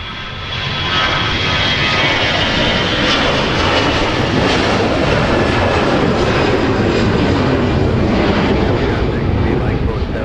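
A Delta Airbus A350-900 jet airliner departing Minneapolis–Saint Paul airport, rising to a loud, sustained engine roar that holds steady throughout, close and continuous.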